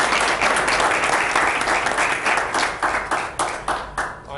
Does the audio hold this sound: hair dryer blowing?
no